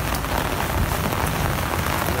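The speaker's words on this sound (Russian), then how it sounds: "Ну такая вот Венеция в дождь" Heavy rain pattering on surfaces in Venice's Cannaregio district, a dense steady wash of drops close by, unbroken throughout and without speech.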